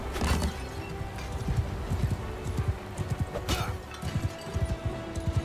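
Horse hooves clip-clop in a video game, a run of rhythmic thudding steps at moderate loudness with a couple of sharper knocks over low background ambience.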